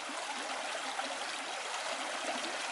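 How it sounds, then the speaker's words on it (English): A small brook flows steadily nearby, a continuous broadband rush and trickle of water with no voices over it. "It's a beautiful little stream."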